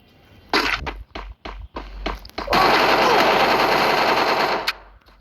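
Gunfire in the video game Free Fire: several short, sharp separate shots are followed by a long, loud, sustained burst of rapid automatic fire.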